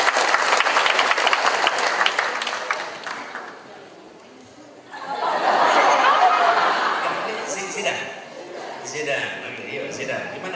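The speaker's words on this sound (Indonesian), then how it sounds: "Tepuk tangan buat Salwa." An audience at a children's reading event claps, starting loud, fading into chatter and a little laughter, then swelling into a second burst of applause with voices talking over it.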